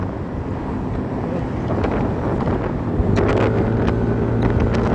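Strong wind buffets the microphone outdoors in Bangkok traffic, a loud, continuous low roar with steady gusty rumble and no pauses throughout.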